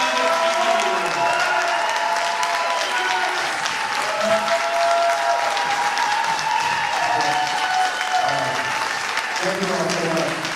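Audience applause for the 2024 Lexington Music Lifetime Achievement Award recipient at the Lexington Music Awards, a dense sustained crowd clapping filling the whole stretch, with faint voices mixed in.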